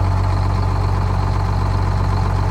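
A retired fire truck's two-stroke Detroit diesel engine runs smoothly at idle, a loud, close, steady low drone with an even rhythmic throb and no pauses.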